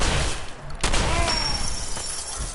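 Dense, noisy shotgun blasts and crashes in Fallout 4 fill the clip, with a sharp burst near the start and a constant roar underneath.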